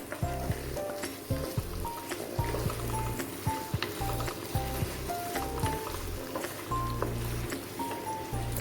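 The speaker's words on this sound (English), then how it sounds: "At this stage I will be adding in a little bit of salt, and I'll give this a nice stir." Mushrooms sizzle in a pan for Alfredo pasta while a utensil stirs them, giving a steady crackle with regular scraping strokes and soft clacks.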